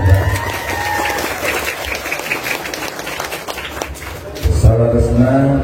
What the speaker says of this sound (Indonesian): Tepuk tangan untuk kampung Nagrak